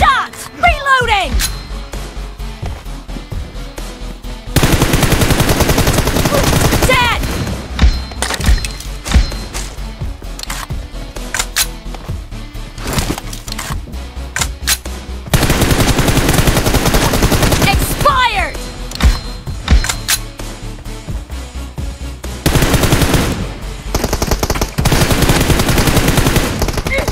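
Gunfire from PUBG Mobile in a team deathmatch, with long stretches of rapid automatic shots and sustained bursts. Loud game music and in-game voice callouts play alongside the shooting.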